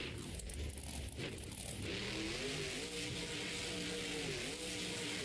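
A zombie-themed monster truck's engine revs with a steady rising and falling drone while the truck climbs up onto a stack of cars at an arena show, loud and continuous under crowd and arena noise.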